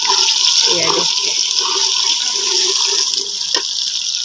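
Onions and tomatoes sizzle in hot ghee, a steady loud hiss and crackle of frying that runs throughout, close and unbroken, with a brief louder spatter near the end.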